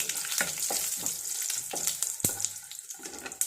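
Three or four green chilies fry in hot coconut oil with mustard seeds, giving a dense, continuous close-up sizzle broken by a few sharp spatters and stirring scrapes.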